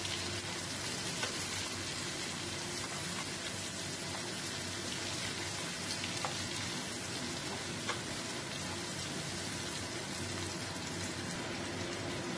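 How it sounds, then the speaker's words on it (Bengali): Chopped onion, garlic paste and green chili sizzle steadily in hot oil in a pan, a dense continuous frying crackle with faint scattered pops, close and alone without talk. "এবার এটাকে একটুখানি ভাজা ভাজা করে নেব।"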